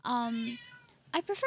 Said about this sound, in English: yes, you can hear my cats in the background